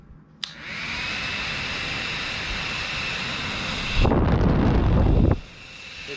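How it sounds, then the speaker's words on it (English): A small servo-driven blower fan on a mini jet boat switches on with a click and runs as a steady whirring hum, then a louder burst of rushing air rises briefly before dropping back. "So like this one would be the blower, which I have this servo fan right here."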